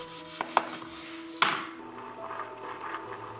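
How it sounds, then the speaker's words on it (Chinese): Dark chocolate block being chopped into small pieces with a knife on a board: three sharp, close chopping strikes in the first second and a half, then a quiet kitchen background. "黑巧克力块先切得碎一点，方便融化。"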